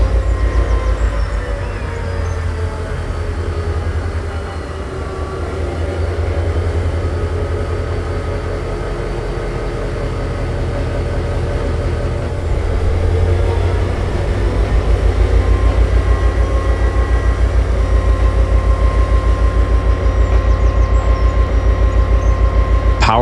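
A powerful locomotive shunts, pushing a long consist of 27 railroad cars backward, its steady engine drone and rumbling wheels continuous and close throughout, growing slightly louder toward the end.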